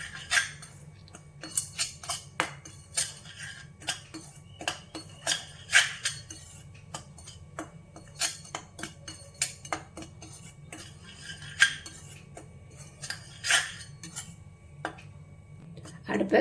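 A metal spoon scrapes and clinks against a pan while flour is dry-roasted on a low flame, giving irregular, close taps and scrapes over a faint steady hum, with no voices.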